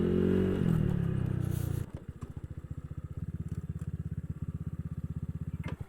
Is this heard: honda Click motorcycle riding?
yes